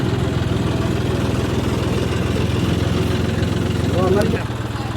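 A tractor engine runs at a steady, rhythmic chug close by, swelling briefly near the end before settling, while people talk over it at a shoreline where a boat is launched into the sea.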